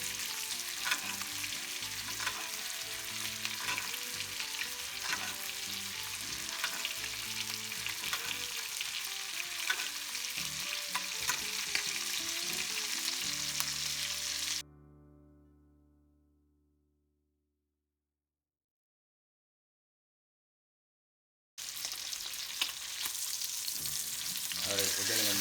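Brined ribeye pork chops searing in a pan, a dense, steady sizzle close by that drops away into silence midway and then returns just as loud, no speech.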